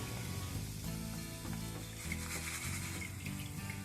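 Leftover cooked rice frying in a pan for a puffed-rice snack, giving a steady, fairly quiet sizzle with a faint hum underneath and no voices.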